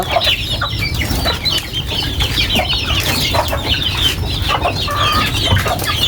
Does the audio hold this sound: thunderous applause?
no